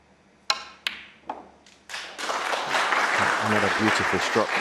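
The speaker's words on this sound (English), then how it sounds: "Well, the crowd applauds" A few sharp cue-ball strikes and clacks on a snooker table at a Champion of Champions match give way to a rising wave of crowd applause, with a commentator speaking over the clapping.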